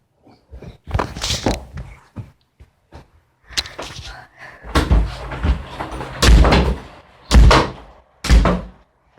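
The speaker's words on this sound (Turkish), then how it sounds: "kapıyı üç kere aç kapıyı lütfen" Door sounds at a home during a challenge game: a series of loud thuds and bangs, several close together, as a door is opened and knocked about nearby, with a little talk and movement between them.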